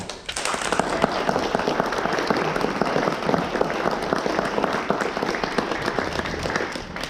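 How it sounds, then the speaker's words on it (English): A Democratic club candidate forum audience in Aurora, Colorado gives the candidates a big round of applause, a loud, dense, sustained clatter of many hands that fills the room evenly from start to finish. "Now let's have a big round of applause for all our candidates."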